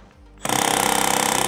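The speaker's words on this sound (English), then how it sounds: "I'm gonna use my drill, my impact driver, which I love" An impact driver in reverse with a socket backs out bolts on a garage door spring bracket, starting abruptly and then hammering in a rapid, loud, even rattle close by.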